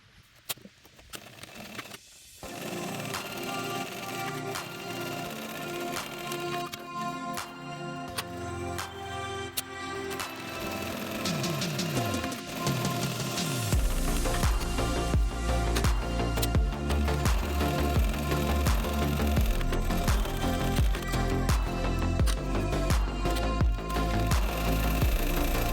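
A sewing machine top stitching the folds of a Konin bowler purse, starting with sparse clicks and short runs, then settling into a loud, steady mechanical hum and rapid needle patter that runs to the end.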